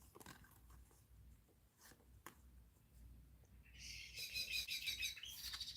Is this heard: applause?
no